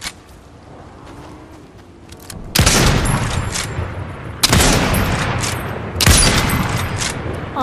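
Gunfire in the video game Fortnite: three loud bursts of rapid shots, each cutting in sharply and ringing out before the next, after a quieter stretch with faint background sounds.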